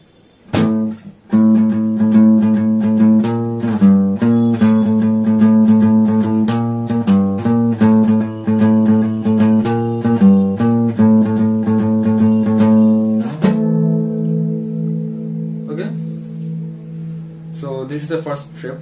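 Percussive acoustic guitar plays the Shiv Tandava Stotram pattern, with sharp rhythmic strums, slaps and ringing harmonic chords repeating steadily, close and loud, ending in a few softer sustained notes.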